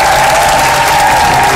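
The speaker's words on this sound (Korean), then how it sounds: "절로 박수가 나오게." A studio audience applauds on a Korean star lecture TV show, a loud, continuous wash of clapping and crowd noise that fills the whole moment without a break.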